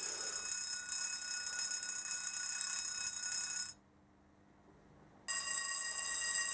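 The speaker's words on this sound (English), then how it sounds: "got some bell sound, which is also some level crossings in the UK that use that" A UK-style level crossing warning bell on an OO gauge model railway rings steadily and loudly, then stops for about a second and a half before ringing again.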